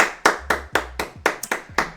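Sharp, close hand claps ring out in a quick, even rhythm, about eight crisp strikes in two seconds with brief silence between each.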